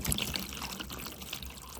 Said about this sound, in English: I'm going to put in enough water to go, I don't know, quarter away, halfway